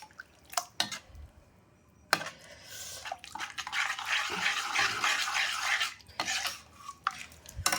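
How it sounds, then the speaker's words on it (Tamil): Water poured into a pot of vegetable kurma, a splashing pour rising in the middle between clinks of a ladle or spoon against the pan, fairly close with no voices. "நான் இன்னும் கூட தண்ணி ஊற்றுறேன்."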